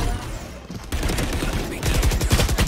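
Phantom rifle gunfire in Valorant rattles out in loud, rapid automatic bursts, with a short pause between sustained strings of close shots and a faster run of fire toward the end.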